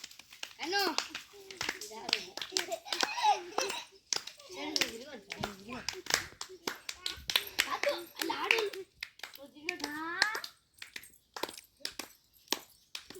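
Schoolchildren clap in loose, uneven bursts while turning in a circle for a Bathukamma festival dance, with children's voices chattering and calling throughout.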